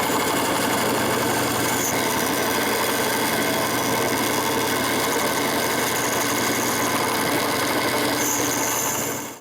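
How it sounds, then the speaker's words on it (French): A band saw cuts a groove into a piece of wood in a workshop, giving a steady, loud, dense whir and rasp that runs without a break for the whole stretch. "je coupe une rainure avec la scie à ruban."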